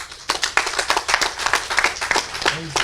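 Several people at a press conference clap together in a lively burst of applause, with quick uneven claps close by and a brief murmur near the end.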